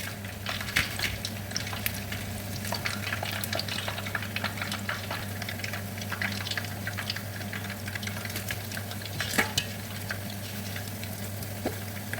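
Meat frying in oil for a red oil stew, a steady crackling sizzle with scattered pops and occasional utensil clicks, close and even throughout.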